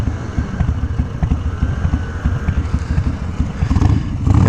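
Motorcycle being ridden by a beginner, a steady low engine rumble with a rough, pulsing clatter, fairly close and continuous, rising slightly toward the end, with no voices.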